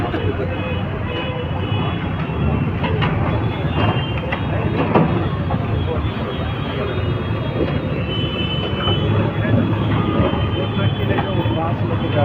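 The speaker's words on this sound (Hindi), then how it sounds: "यहाँ पे देखना है, यहाँ पे ट्रेन है" A train rumbles past in a steady, loud, continuous roar with rattling, while people talk over it outdoors.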